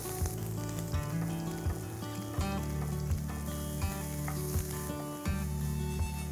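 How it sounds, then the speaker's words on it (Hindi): Onion hitting hot oil in a pan, with mustard seeds already crackling, gives a steady loud sizzle with repeated sharp spatters and pops throughout, no voices. "हम पैन में कांदा डालेंगे।"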